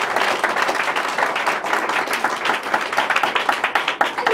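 A church congregation claps and applauds together, a dense, steady burst of many hands that stays loud and even throughout with no talk over it.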